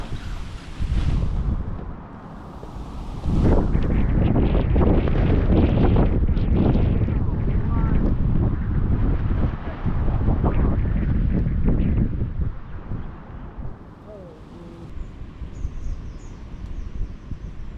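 Strong wind gusts buffet a tent pitched tight to the ground in storm fashion at a trail campsite, a loud broadband roar that surges and eases over the clip, with brief quieter lulls.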